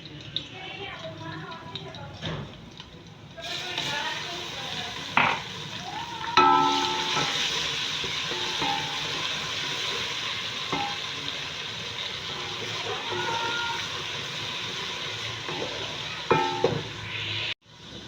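Garlic ginger paste added to light brown frying onions in a pot for chicken pulao, a steady sizzle with occasional spoon scrapes and stirring clatters, a voice talking over it.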